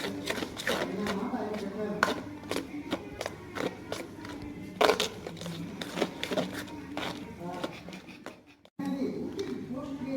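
Knife chopping ingredients into small pieces on a board for Indian street-food egg pakoda, a steady run of sharp, close taps with a brief pause near the end, under continuous talking.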